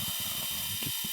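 A watch hand blank glued to an aluminium base is machined, giving a steady high hiss with uneven low grinding and chattering pulses close by.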